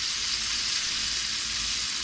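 Pork searing in a hot pan while green chile is being made, a steady, loud, broadband sizzle and crackle that runs unbroken from start to finish with no talk over it.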